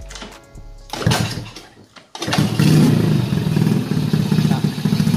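A motorcycle with no ignition switch is kick-started, a couple of clattering kicks, then the engine catches and settles into a loud, steady, close-up idle that runs to the end.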